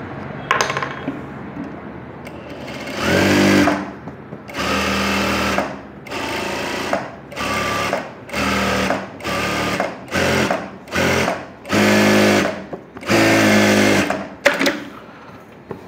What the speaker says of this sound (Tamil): தைக்க போகிறோம்.